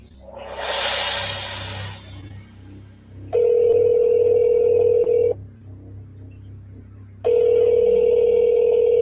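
A recorded emergency phone call plays back: a noisy burst of line hiss at the start, then two long steady telephone tones, each lasting about two seconds and separated by a quieter gap, clear and prominent.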